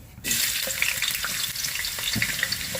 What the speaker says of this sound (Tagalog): Gisa lang natin yung ating luya.